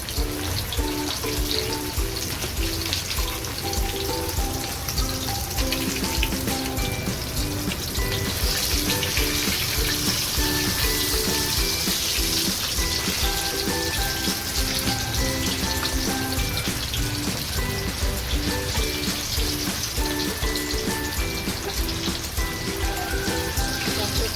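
Surmai fish frying in a pan with homemade masala spices, giving a steady, close, unbroken sizzle for the whole stretch over a faint melodic background.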